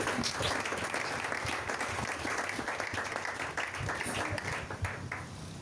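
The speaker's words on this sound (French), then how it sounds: "Est-ce qu'on peut acclamer la parole?" A church congregation applauds in steady, dense clapping that carries on for several seconds, with some voices mixed into the clapping.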